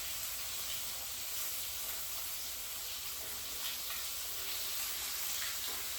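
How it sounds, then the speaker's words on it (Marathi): Bitter gourd (karela) fries in a pan with a constant, even sizzle and hiss, close by and unbroken, with faint crackles now and then. "आपल्याला कारलं चारी बाजूने"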